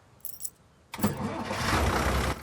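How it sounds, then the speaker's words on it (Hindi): A car engine in an action-movie scene cranks briefly and catches, then settles into a steady, loud running roar, after a few short metallic clinks like keys. "गाड़ी स्टार्ट कर लो अब।"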